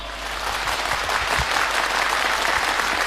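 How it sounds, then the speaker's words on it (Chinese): Sustained audience applause fills the hall, steady and dense from start to finish, welcoming Nanjing xiaosheng actor Zhu Xiaozhao onto the stage at a 2004 Yue opera showcase performance. "让我们用掌声欢迎朱小昭。"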